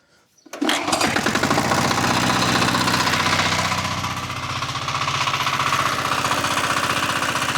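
The engine of a Forte 1035-3 walk-behind tractor fires up after a brief quiet moment, then runs loud, close and steady with a rough, rapid chugging that stays constant throughout.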